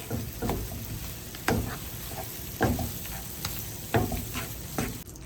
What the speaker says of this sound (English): keep mixing everything together